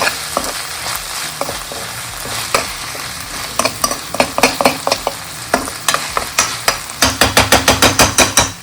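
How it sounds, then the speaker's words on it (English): Eggplant pieces with salt fry in a pan, a steady sizzle under spoon clatter and scraping that turns into a fast, regular run of stirring knocks near the end. "So मैंने बैगन add कर दिए हैं and नमक."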